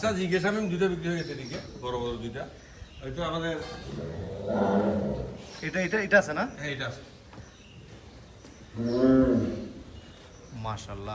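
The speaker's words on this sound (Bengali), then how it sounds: "কিছু গরু একটু আমাদের দর্শকদেরকে দেখাই" Cattle at a farm in Chattogram let out several deep, drawn-out moos, one near the middle and another toward the end, while people talk over much of the scene.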